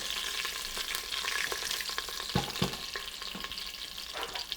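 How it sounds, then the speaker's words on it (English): Cumin seeds crackle and sizzle in hot oil, a constant hiss broken by sharp pops and the scrape of stirring. "you can add some cumin seeds, and let them sizzle for a few seconds"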